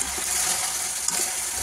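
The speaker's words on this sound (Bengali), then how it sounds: "আস্তে আস্তে ভেজে নেবো।" Chicken for chicken kosha fries slowly in a pan, a soft steady sizzle with a faint bubbling hiss and one small clink, heard close with no talking.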